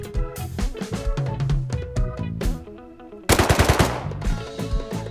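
Rapid automatic gunfire rings out in the survival video game Rust during a fight near an offshore rig, a dense loud burst of repeated shots following busier game sounds.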